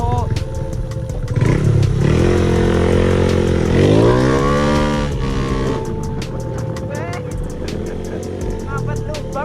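A motorcycle ridden at speed, its engine droning loudly and steadily with a rising, revving pitch in the middle, wind and road rumble mixed in, no one speaking.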